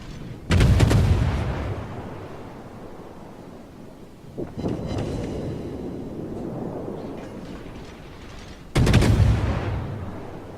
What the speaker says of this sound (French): moi je tire au canon